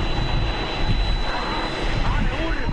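A passenger airliner lands on a runway without its wheels, a loud steady roar of jet engines and rushing noise that fills the whole stretch, with voices talking over it.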